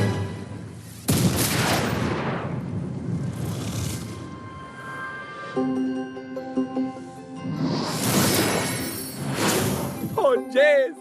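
A huge explosion in the video game Skylanders Trap Team: loud, broad blasts with rumbling debris, a second burst later, and game voices and music in between.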